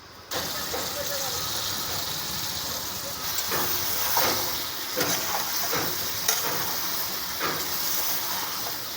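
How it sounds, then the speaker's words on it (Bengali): Cut potatoes fry in oil in a wok at an outdoor picnic, a continuous close sizzle broken by several rhythmic stirring scrapes, with a faint engine-like rumble underneath. "আলুগুলো কেটে রাখা আছে এইগুলোকে আগে ভেজে নেবো"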